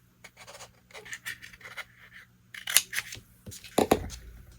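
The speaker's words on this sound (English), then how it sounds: "And then I'm going to trim these corners." Scissors snip at the corners of a paper craft project for a brush holder, a few sharp close cuts scattered among soft handling rustles, with the last snips loudest.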